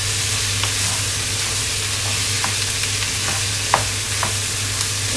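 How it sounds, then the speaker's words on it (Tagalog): Pork belly sizzles and fries in a pan, a constant close hiss with occasional spatters and scraping stirs of the utensil, steady throughout with no speech. "isutay natin tong mabuti guys hanggang sa mag golden brown"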